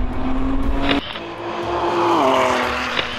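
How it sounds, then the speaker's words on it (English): A Ford GT supercar drives by, its engine holding a high tone, dropping sharply on a shift, then rising again as it revs past at close range with no voices. "the car I'm about to drive today is no ordinary Ford. It's the iconic Ford GT"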